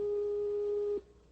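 An answering machine beep follows a recorded outgoing message: a single steady electronic tone holds for about a second, then cuts off abruptly into quiet line hiss.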